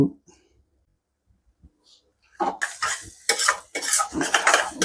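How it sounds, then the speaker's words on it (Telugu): A spoon scrapes and clinks against a pan while Andhra-style prawn curry is stirred, the rhythmic metallic strokes starting after a quiet pause and carrying on loudly to the end. "బాగా కలుపుతూ ఉండాలి. అడుగు అంటుకోకుండా కలుపుకుందాం."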